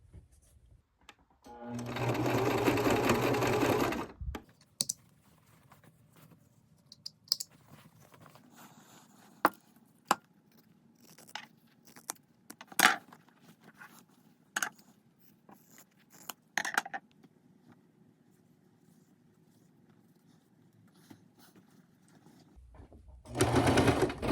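Sewing machine stitching pieces of a flannel baby quilt in one loud burst of a couple of seconds, then quiet handling noises and small clicks, with another short run of stitching at the very end.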